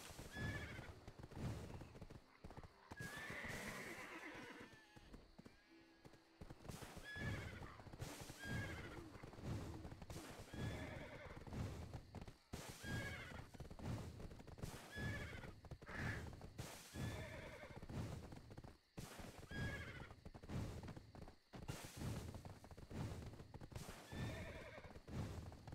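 Horse in the Black Desert Online video game neighing repeatedly over a steady, rhythmic clip-clop of hooves, loud and close, with whinnies recurring every few seconds.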